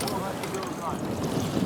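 Strong wind buffets the microphone at a lakeside or sandy-dune fishing spot, a loud, steady rumbling roar that swells in gusts, with faint voices mixed in.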